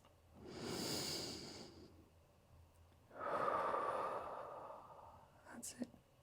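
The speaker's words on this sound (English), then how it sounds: "Nice slow breaths here" Two long, slow breaths during a stretch in a full-body workout, each a soft close airy inhale-exhale lasting over a second, followed by a brief sharp sniff at the end.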